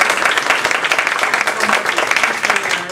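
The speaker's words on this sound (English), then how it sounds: "We need to give each other, all of us, a round of applause to each other." A crowd at a humorous speech contest applauding steadily, dense overlapping claps at moderate loudness from start to finish.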